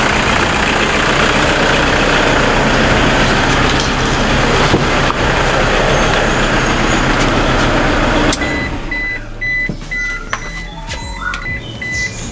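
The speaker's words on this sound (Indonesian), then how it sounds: "Ini Innova 2KD diesel." A 2009 Toyota Innova G automatic with a 2KD diesel engine idles steadily and loudly up close, the rumble dropping away sharply near the end.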